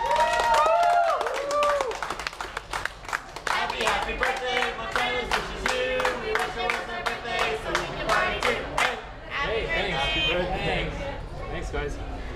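A crowd claps for a birthday in a lively mixed scene with clearly audible voices. The applause comes as steady bursts that start about four seconds in and carries on under loud talking and cheering until near the end.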